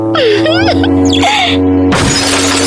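A mirror shatters suddenly in a bright, crashing burst in a children's cartoon, following a stretch of sweeping, cartoonish musical tones.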